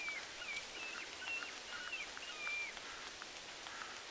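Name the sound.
loud rain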